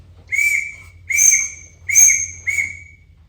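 Four short, sharp whistles sound one after another at a steady pace, close and clear, from a Ford 302 engine being cranked on a run stand, with no talking.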